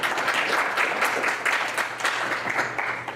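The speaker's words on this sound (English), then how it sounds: "Please give Heather a round of applause as well." An audience at an energy innovation conference applauds a speaker with steady, dense clapping that holds for a few seconds, fairly close and filling the room, with no talk over it.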